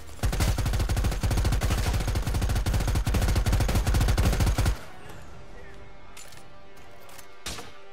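Rapid automatic gunfire rattles loud and continuous for several seconds in Predator: Hunting Grounds, then cuts off to quieter ambience with a couple of faint distant pops.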